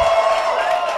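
A crowd gathered for a live show cheers and applauds in a steady, loud wash of voices and clapping, with shouting mixed throughout.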